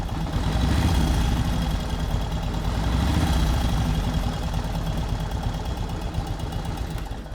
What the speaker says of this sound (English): Quiet motor too. You just hear those valves opening and closing. No gear noise.